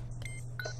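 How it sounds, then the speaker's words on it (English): A quick cluster of short electronic beeps at a few different pitches from the game Oddworld: New 'n' Tasty, fairly quiet, over a steady low hum, with no talking. "Not a fan of the beeping."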